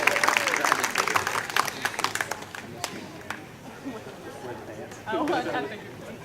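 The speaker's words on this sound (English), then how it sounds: "Let's have a round of applause for Brian Green, folks." Wedding guests clap for Brian Green in a scattered burst of applause that thins out after a few seconds, with chatter and voices mixed throughout.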